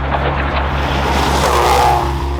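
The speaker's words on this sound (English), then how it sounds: "A top spec rally car doesn't work well until it's driven to its limits" Top-spec rally car under way at racing pace, its engine a steady loud drone with strong low harmonics running continuously throughout, no voices.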